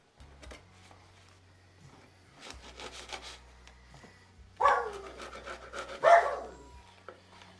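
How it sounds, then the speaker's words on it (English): A serrated knife saws lengthwise through a pan of cornbread, giving soft rasping strokes that get louder and coarser toward the end. The sound is close, with faint background hum and no talk. "Use a good, sharp as you have serrated knife on it."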